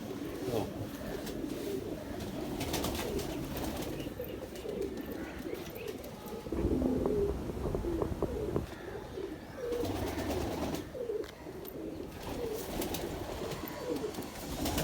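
Pigeons, including shikra pigeons, coo in low, repeated murmurs amid a busy background with occasional chirps and rustling, soft and continuous.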